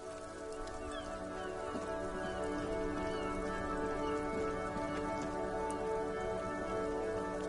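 Steady, faint rainfall from the video game Disco Elysium patters continuously over a low, sustained droning tone.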